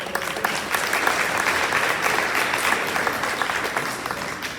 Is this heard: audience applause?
yes